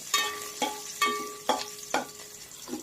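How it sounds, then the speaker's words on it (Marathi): Curry leaves crisp up in hot oil, giving a close, bright crackle and sizzle that comes in short stirred bursts about every half second. "कढीपत्ता चांगला क्रिस्पी करून घ्यायचा आहे"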